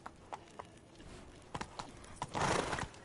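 Geralt's horse Roach in the Witcher 3 video game gallops, hoofbeats thudding in a loose rhythm that builds into a louder rush of movement near the end.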